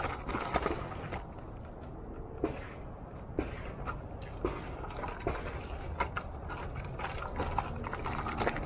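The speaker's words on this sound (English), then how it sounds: "Those are gunshots, folks." Sharp, distant gunshots pop out several times at irregular intervals over steady outdoor background noise in Pennypack Park by the Delaware River.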